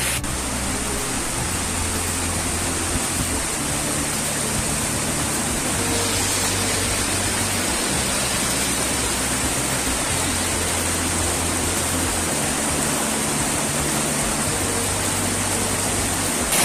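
Double waterfall near Kashipur in Rayagada, Odisha, with water pouring down from above in a loud, steady, broadband rush that holds unbroken throughout, with no voices.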